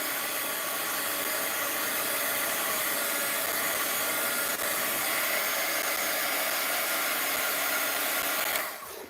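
A heat tool runs steadily for about nine seconds while warming art media, a loud, even rushing hiss with no talk over it, cutting off abruptly at the very end.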